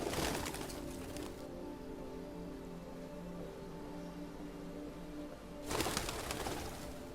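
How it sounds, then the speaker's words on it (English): Pigeons coo softly in Detroit Become Human, with low repeated cooing over steady rain-like background noise and brief louder rustling at the start and near the end. "Those damn birds, they're everywhere."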